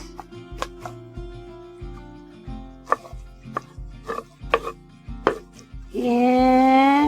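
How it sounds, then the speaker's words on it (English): Carrots dropped into a pot while making a cream pasta sauce, heard as a series of close, sharp plops and chopping-like knocks at irregular intervals, ending in a loud sizzle as the ingredients hit the hot pan. "In go my carrots."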